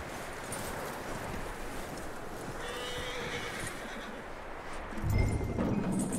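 A horse whinnies amid steady hoofbeats clip-clopping and rustling ambience, with a louder thump near the end, in the video game Red Dead Redemption 2.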